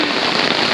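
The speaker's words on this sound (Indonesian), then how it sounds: "Hujan kembali." Heavy rain drums steadily on a tent during a camping trip, a dense continuous patter that stays loud and close throughout with no voices.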